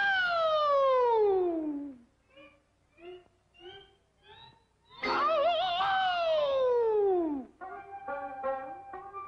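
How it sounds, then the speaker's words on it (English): Japanese air raid siren sounding in a demonstration: long loud wails sliding downward in pitch, alternating with shorter stepped tonal blasts, with no speech. "We are now privileged to witnessing demonstration of Japan's finest air raid"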